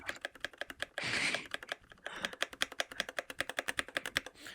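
Steady, rapid typing on a computer keyboard, close and fairly quiet, with evenly spaced crisp key clicks and a brief burst of louder clatter partway through, and no talking.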